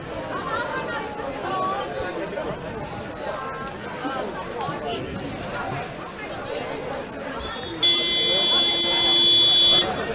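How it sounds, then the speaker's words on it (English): At a water polo match between Chisipite and St Mary's Waverley, a loud, steady electronic buzzer sounds for about two seconds to end the break after the first chukka, over crowd chatter and a commentator's voice. "Buzzer goes for the end of the break after the first chukka."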